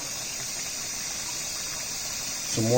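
Water drains from a pot of cooked rice in a kitchen while making Nigerian jollof rice, a steady rushing pour that runs continuously and swells louder near the end.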